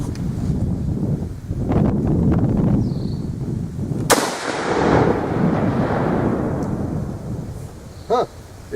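A Lee Enfield SMLE British infantry rifle fires a 180-grain bullet outdoors. One sharp, loud crack lands midway through a windy background and rolls away in a long, fading echo.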